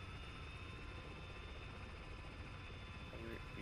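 Support aircraft in a military video game drone overhead as a steady, low rotor-like hum that stays constant and fairly faint throughout, with no voices.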